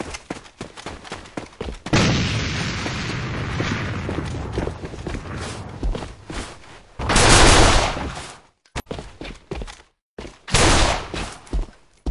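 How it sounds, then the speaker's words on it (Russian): A grenade is thrown and explodes amid rapid gunfire in the online shooter A.V.A, with loud bursts of shooting, heavy booming blasts and brief silent gaps between volleys. "lançar a granada!"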